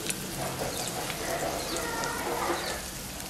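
Chilies and Maldive fish frying in hot oil for Jaffna-style seeni sambal, a steady dense sizzle and crackle throughout, close and even, with faint stirring.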